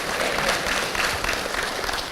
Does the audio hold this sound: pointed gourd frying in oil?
no